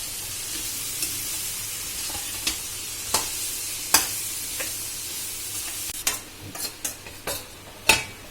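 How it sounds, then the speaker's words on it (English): Vegetables sizzling in a pan for a gluten-free roll filling, a steady frying hiss broken by sharp scraping stirs of a spoon that grow quicker toward the end. "We will mix it properly and then cover it so that the vegetables turn soft."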